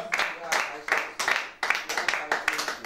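A congregation at a worship service clapping together in a steady rhythm, roughly three sharp claps per second, loud and close, with voices faintly beneath.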